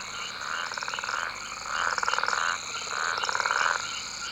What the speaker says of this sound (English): Frogs communicate by sound, and a pond on a summer night produces a cacophony of calls.